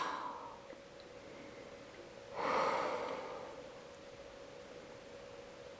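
A single deep breath during yoga practice, a soft airy exhale swelling briefly in the middle of an otherwise quiet room.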